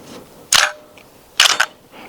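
An AEA Megalodon .50 caliber pump-action airgun fires at a steel plate, giving two sharp, loud reports about a second apart, the second followed by a quick secondary clack, over faint outdoor background.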